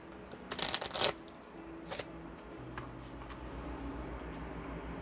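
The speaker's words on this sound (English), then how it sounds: "One more shuffle" A deck of about 80 reading cards is riffled in a quick burst of crisp flutters near the start, with a softer shuffle after, then a quiet room hum with no speech.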